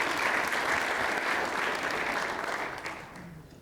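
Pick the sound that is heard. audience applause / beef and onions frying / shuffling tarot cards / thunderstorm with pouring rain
audience applause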